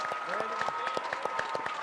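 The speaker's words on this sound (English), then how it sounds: "Applause erupted at Johns Hopkins Applied Physics Lab Tuesday morning" Scattered clapping from a crowd at Johns Hopkins Applied Physics Lab, with sharp individual claps over a steady murmur of voices and a faint sustained tone.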